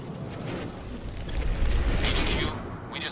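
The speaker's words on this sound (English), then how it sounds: "HQ, we just heard an explosion near the harvesting perimeter." A heavy explosion in the video game Quantum Break rumbles loudly and close, a deep rolling boom that swells for a second or so, then fades into crackling debris.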